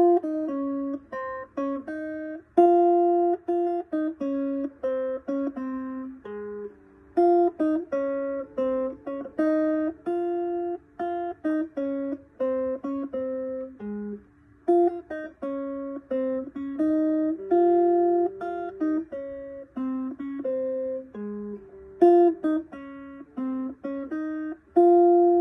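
Guitar picking the melody notes of a song: clear single plucked notes in a slow, even line with a few short pauses, played close and alone with no talking.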